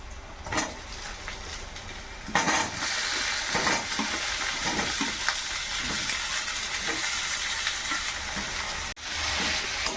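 Potatoes go into hot oil with ginger, garlic and onion, setting off a loud, steady sizzle with repeated scraping stirs, briefly cut off near the end before frying resumes; close-up, no talking.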